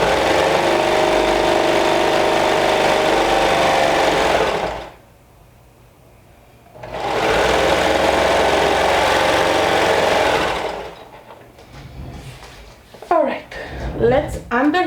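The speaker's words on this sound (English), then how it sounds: "Actually, we're sewing the side seams." A sewing machine stitches the side seams of a skirt in two long, steady, loud runs, with a brief pause between them. A voice then speaks as the machine falls quiet.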